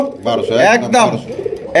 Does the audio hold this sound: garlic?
no